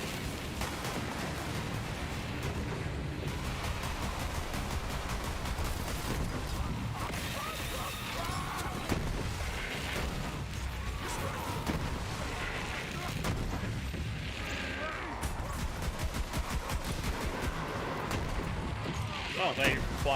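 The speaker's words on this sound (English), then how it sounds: "Someone's using an explosive rifle. Just obliterating me." Explosive rifle fire in an online shooter video game, dense bursts of blasts and gunfire running continuously and loudly throughout, with a voice talking over the action.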